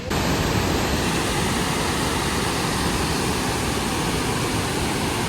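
A waterfall in Waterton Lakes National Park roars in a dense, steady rush of broadband noise, loud and constant with no pauses.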